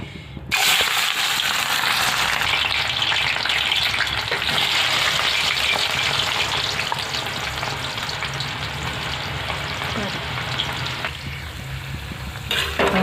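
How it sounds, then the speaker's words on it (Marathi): Onions frying in a pan of hot oil for a chicken dum biryani, a loud, continuous crackling sizzle that holds steady throughout with no talking. "त्यात आपण कांदा तळून घ्यायचं त्यासाठी तेल ठेवलं आहे मी"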